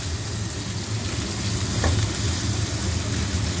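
Dried shrimp and mushrooms are stir-fried in a pan, producing a steady close sizzle with soft stirring scrapes and a brief clink partway through, with no speech.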